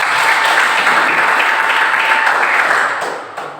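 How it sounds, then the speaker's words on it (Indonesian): A classroom of students applauds during a teaching session, steady dense clapping that fills the room at close range and tapers off near the end. "Baik, berikan tepuk tangan."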